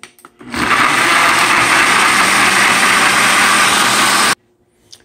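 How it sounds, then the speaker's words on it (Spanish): Kitchen blender whirring as it blends fruit with water, starting abruptly, running at a loud steady roar for about four seconds, then cutting off sharply. "Ahora lo vamos a licuar."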